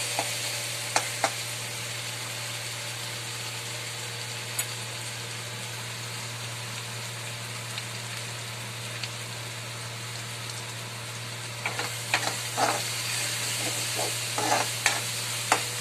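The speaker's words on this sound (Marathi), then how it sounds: "आलं लसूणची पेस्ट चांगली कलर बदली होईपर्यंत होऊ द्यायची" Onion and ginger-garlic paste fry in a pan for an egg bhaji, a long, even sizzle like steady rain with a low hum beneath, broken by scattered spoon taps and scrapes that cluster toward the end.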